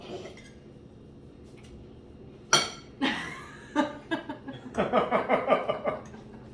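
Metal fork clinking against a bowl while someone eats a meal of mo moochim, a run of sharp, close taps and scrapes growing busier toward the end, with no talk.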